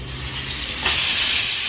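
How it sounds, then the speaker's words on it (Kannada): Bangda fish frying in a pan, where a quiet hum abruptly gives way halfway through to a loud, close, steady sizzle and hiss of hot oil, with no talking. "ಫಿಶ್ ಫ್ರೈ ಮಾಡ್ತಿದ್ದಾನೆ"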